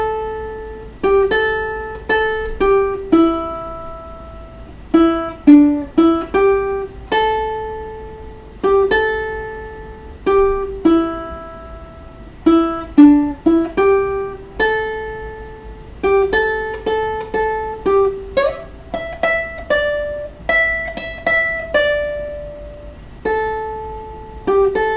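A ukulele fingerpicks the chorus melody of a song in clear, bright plucked notes with ringing decays. The phrases move at a steady, unhurried pace, played alone and close.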